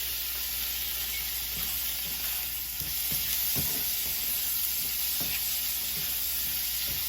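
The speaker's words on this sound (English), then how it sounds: "We're going to cook this stuff for about 2 minutes, 2 or 3 minutes, just to soften the tomatoes." Tomatoes and other ingredients for Tuscan chicken sizzle steadily in a hot pan, softening as they cook. A constant frying hiss runs throughout, with a few soft clicks from stirring in the middle and no voices.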